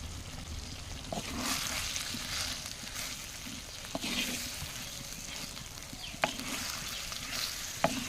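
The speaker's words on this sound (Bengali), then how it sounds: "আবারও কিছুক্ষণ কষিয়ে নেব" Green jackfruit with grated mango being sautéed in a pan: soft continuous sizzling with a spatula scraping and stirring, and a few sharp clinks against the pan, fairly faint and close.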